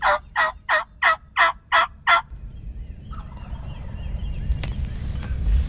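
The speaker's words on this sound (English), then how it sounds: "sounds like a big tom and three or four jakes ripping it down the valley here" Wild turkeys, a big tom and several jakes, gobble in a rapid run of seven loud calls, followed by a rising outdoor rumble and faint distant bird sounds.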